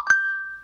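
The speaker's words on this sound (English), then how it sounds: "I don't know why my phone is going off" A single bright phone notification ding rings out alone, a clear metallic tone that sustains and slowly fades.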